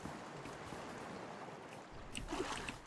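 Steady watery sloshing and lapping from swimming through water in the dungeon game Legend of Grimrock, a continuous wash that swells with a brighter splashy burst near the end, no voices.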